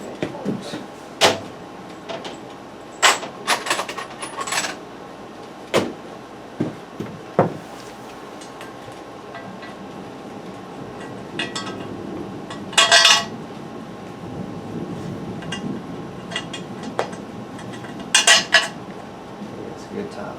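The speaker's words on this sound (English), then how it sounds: "Let me get some 1/2 inch bolts." Metal half-inch bolts clink and rattle as they are rummaged through during work on a Jeep XJ Stinger header, with scattered sharp metallic chinks, a few louder clusters, and quiet handling sounds between them.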